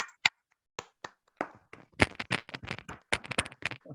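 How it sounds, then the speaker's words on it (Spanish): Scattered hand claps from a small audience after a colloquium talk on Caroline Herschel, starting as a few isolated claps and then thickening into a quicker, uneven patter of several clappers. "el aplauso te lo vamos a dar ahora, Leo"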